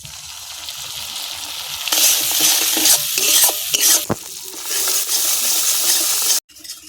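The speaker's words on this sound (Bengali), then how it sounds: "তেল ছেড়ে দিয়েছে, দিয়ে দেব সরিষা বাটা" Mustard paste with chilli powder, salt and spices frying in oil for a Bengali koi fish curry, a loud, dense sizzle rising sharply partway through, with spatula scrapes and knocks against the pan before it cuts off abruptly.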